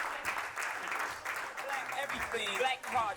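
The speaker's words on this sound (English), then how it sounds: "let's give a warm round of applause for these two legends, Mr. Steve Devine" Audience applause greets two former All Blacks rugby players, a steady, continuous clapping that holds for several seconds with voices mingled in the crowd noise.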